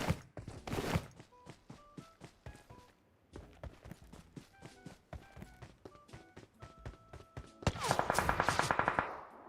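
Rapid bursts of gunfire in PUBG Mobile, sharp repeated shots in quick rhythmic volleys with short gaps, ending in a louder cluster of fire.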